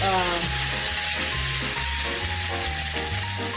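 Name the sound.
pork chops frying in a pan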